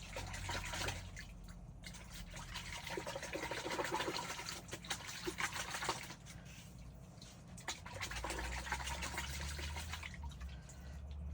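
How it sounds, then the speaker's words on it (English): Warm water poured to clean the clogged ink waste lines of a Procolored P13 DTF printer: a faint, continuous trickle and splash that runs for several seconds, with small clatters and no talking. "A little warm water."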